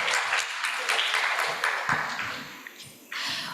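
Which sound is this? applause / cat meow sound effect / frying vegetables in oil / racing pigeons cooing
applause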